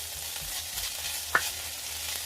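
Naem, a fermented pork, stir-fried in a pan: a steady low sizzle and soft scraping of the spatula run throughout, with one brief sharper clink near the middle, fairly quiet and close with no talking.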